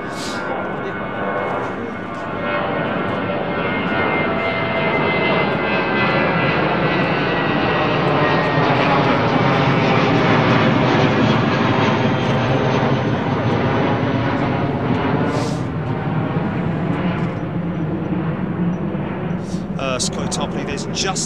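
Jet airliners roar down runway 09R at London Heathrow on departure, a loud sustained engine rumble that builds and holds, with a faint voice now and then beneath it.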